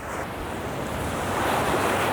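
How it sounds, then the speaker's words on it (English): Ocean waves breaking on the shore on a morning walk near a creek, a loud continuous roar of surf mixed with wind buffeting the microphone. "Hopefully the waves aren't too loud"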